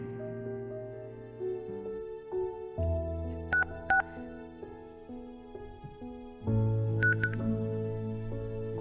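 Telephone keypad tones being dialed, several short paired beeps in two quick bursts over a steady background music bed, fairly quiet and close.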